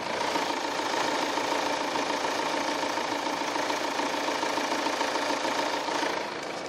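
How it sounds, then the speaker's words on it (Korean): A Volvo XC60 SUV engine idles in a smooth, steady hum with a faint ticking texture, close and continuous, easing slightly quieter near the end. "바로 엔진 소리 한번 들려드릴게요."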